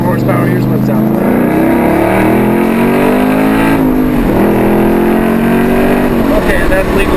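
A 2013 Ford Mustang Boss 302's 444-horsepower V8 roars close by, revving up through second gear with a rising, throaty growl that stays loud throughout.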